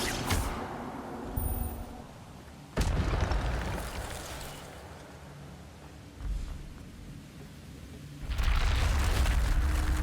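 The Incendio fire spell is cast in Hogwarts Legacy, sounding as sudden loud whooshing bursts that flare and trail off, several in succession with quieter rumbling gaps between them.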